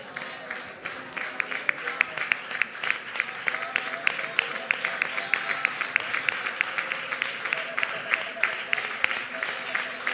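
A congregation at a worship service claps their hands together in praise. The claps are rhythmic and steady throughout, with a faint voice underneath.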